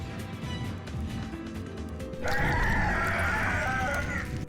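A chicken in the video game Bulb Boy clucks and squawks loudly, a sustained shrill burst that cuts in halfway over steady game music.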